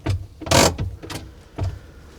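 A short mechanical ratcheting clatter from a forklift's parking brake lever, a few quick clicks and a louder rasp in the middle, close by with no talking.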